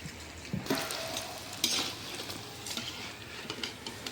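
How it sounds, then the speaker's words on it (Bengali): Food in a pan fries on low heat with a steady soft sizzle, broken by a few louder stirring scrapes. "কম জালে ভাজলে একদম ভাজা সুন্দর হয়"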